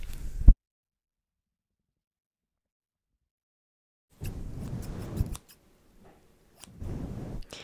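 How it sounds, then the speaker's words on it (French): Hairdresser's scissors snip hair close up in a quiet salon setting: one sharp cut, a long silence, then bursts of rapid crisp snipping and rustling. "Donc je vais venir couper ça tout de suite."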